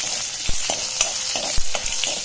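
Red chilies being stirred in a hot pan while tempering for Bassaru rasam, with a steady oily sizzle broken by several distinct spoon knocks and scrapes against the pan, close and fairly loud, no voices.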